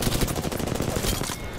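Rapid automatic gunfire in Apex Legends, a dense continuous stream of close, loud shots with a steady rattling rhythm.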